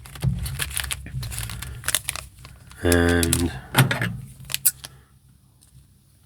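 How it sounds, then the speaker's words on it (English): Scissors snip and rasp through a crinkly baseball card pack wrapper in a quick series of cuts, with clicks and rustles around them and a few spoken words. "So we have our scissors"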